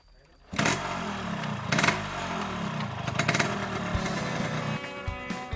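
A locally built motorcycle with wooden side bars in Tasikmalaya, its engine starting and then running with revving bursts and a clattering idle, close and fairly loud, with voices talking over it.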